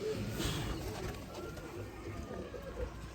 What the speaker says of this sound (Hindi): ओरिजिनल और जेन्युइन दोस्तों हंसराज वाले चूहे कबूतर